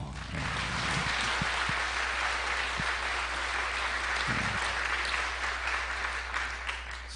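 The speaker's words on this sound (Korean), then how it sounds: "찬양 잘하셨는데 한 박수 한번 해주시죠." A church congregation gives steady applause for the choir, a dense even clapping that lasts throughout over a constant low hum.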